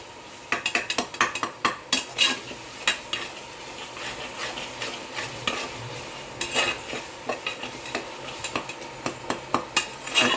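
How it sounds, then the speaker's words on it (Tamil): A spoon scrapes and taps against a pot in quick irregular strokes, mashing ripe tomato into rice, while a soft sizzle runs underneath, close and fairly loud. "நல்லா பழுத்த தக்காளி அப்படி குத்தி விடணும். நல்லா கலிஞ்சு போகணும்."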